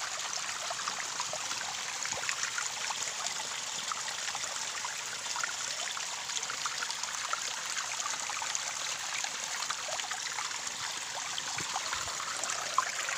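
Water flows and trickles steadily into a hole dug in the ground, a continuous close bubbling stream with no talk over it.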